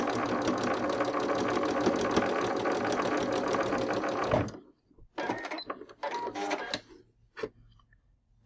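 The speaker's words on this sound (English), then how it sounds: "let's take these to the sewing machine now. So we're going to sew right on that line" A sewing machine stitches a quilt block in a long, steady mechanical whir that stops abruptly, followed by a few shorter start-stop bursts of stitching, close and alone.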